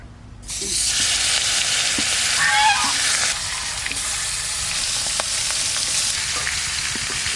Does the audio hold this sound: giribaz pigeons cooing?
no